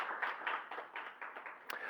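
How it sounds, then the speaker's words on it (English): An audience at a report launch event on safeguarding female journalists online gives faint, scattered applause, with light claps pattering unevenly for a couple of seconds. "Please give that message a round of applause."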